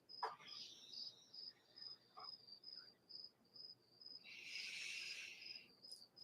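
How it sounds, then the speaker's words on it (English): Continuous high-pitched cricket chirping from a sound machine, steady and pulsing, with a brighter burst of insect noise near the end. "Y'all can hear the crickets chirping on this here sound machine."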